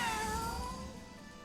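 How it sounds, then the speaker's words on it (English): A cat gives one drawn-out, fairly faint meow that trails off, heard alone in a quiet setting. "Whoa, cat!"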